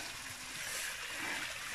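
A water stream on Margalla Hills Trail 5 near Islamabad, its flow slowed by a blockage of fallen logs, gives a steady, soft rushing trickle that holds even throughout, with no voices.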